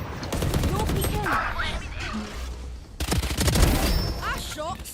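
Rapid bursts of rifle gunfire in the tactical shooter Valorant, crisp cracking shots in quick succession mixed with game effects and a talking voice over the action.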